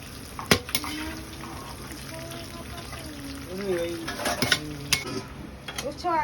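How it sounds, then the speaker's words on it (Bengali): Fried bitter gourd and potatoes being stirred in a pan, with metal clinks and scraping of a utensil on cookware and a light sizzle, irregular and close, under intermittent background voices. "গরম গরম উচ্ছে আলু ভাজা এখন নেমে যাচ্ছে"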